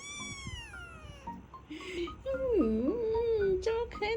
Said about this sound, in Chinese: 没见过这么可爱的小猫咪哈